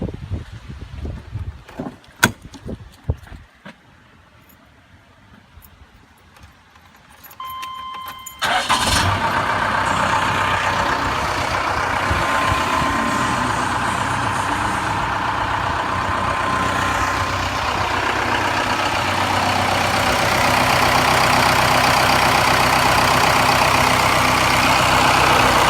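A Cummins 4BT diesel engine cranks after a few quiet clicks and knocks, then catches and settles into a loud, steady rumbling idle heard close up, with no talking.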